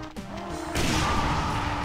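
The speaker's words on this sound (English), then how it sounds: "how the heck did that explosion still hit me?" An explosion in Final Doom: The Plutonia Experiment, a loud crunching blast that suddenly swells up and rumbles on over game music.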